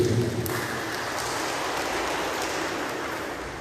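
Church congregation applauding during a Batak-language year-end night service at HKBP Cimahi: steady, dense clapping that holds an even level for the whole stretch, with no voices over it.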